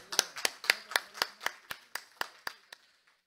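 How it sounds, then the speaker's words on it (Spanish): A single person claps about a dozen times at a steady pace, sharp and close, fading toward the end. "Fuerte aplauso, por favor."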